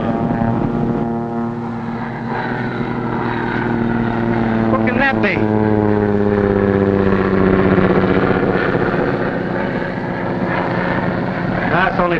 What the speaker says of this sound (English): Billy Barton's plane